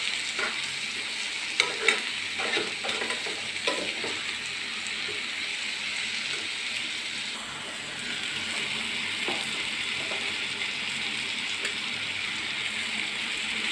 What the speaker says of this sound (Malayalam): ഇടയ്ക്കൊന്ന് ഇളക്കി കൊടുക്കണം കേട്ടോ